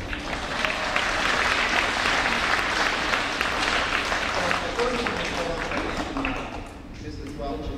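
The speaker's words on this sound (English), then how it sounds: "Can I get a round of applause for that?" An elementary school assembly honoring veterans breaks into a dense, sustained round of applause from a large audience of children and staff, loud and even before tapering off near the end.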